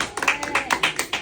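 A small audience claps for the winning team, a brief burst of several close, uneven claps in a loose rhythm, with a voice faintly audible underneath.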